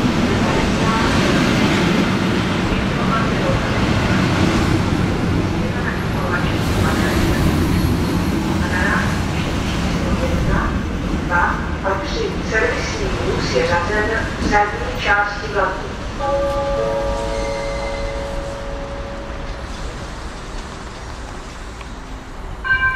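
A Czech Railways passenger train pulls in at a station platform in Praha Holešovice. A steady rumble and clatter run underneath loud public-address announcements, with brief tonal squeals toward the end.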